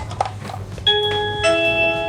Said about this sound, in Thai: ได้ยินเสียงตึ้งตึ้งตึ้งตึ้งแสดงว่าไฟเข้าแล้ว